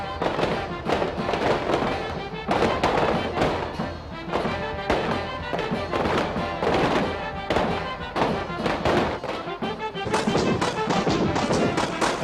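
Fireworks and gunpowder explosions at the La Patum festival, a dense, loud barrage of repeated bangs and crackling bursts that rolls on without pause for the whole stretch.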